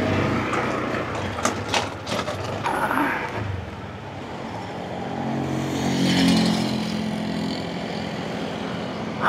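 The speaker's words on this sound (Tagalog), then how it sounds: "Highway po itong kalsada dito, kaya medyo mabilis yung sasakyan." Fast vehicles rush past on a highway toward Dagupan, a continuous loud roar of engines and tire noise that rises and falls as cars and motorcycles pass close by.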